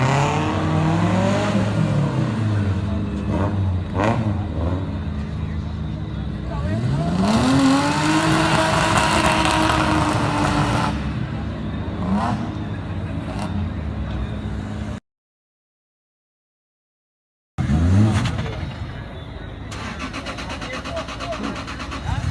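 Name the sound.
big turbo Volkswagen MK4 Golf engine revving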